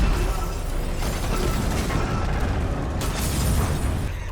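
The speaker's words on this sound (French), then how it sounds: "Le vaisseau explose, tuant Johnson." A spaceship blows up in a zombie video game, a loud sustained rumbling blast with crackling bursts rolling on for several seconds, with no talk over it.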